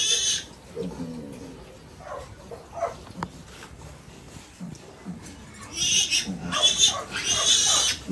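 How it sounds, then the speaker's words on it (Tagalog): Pigs, including a sow and her newly born piglets, grunt and squeal at a farm pen in a scattered, uneven run, with higher squeals growing louder toward the end, at moderate distance. "Laki na mga baboy."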